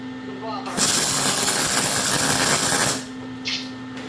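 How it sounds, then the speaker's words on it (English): Steel patch panel being welded during rust repair, a steady loud crackling buzz that holds for about two seconds, then stops, with a faint click afterwards. "I hold the weld here because I want to penetrate through both panels"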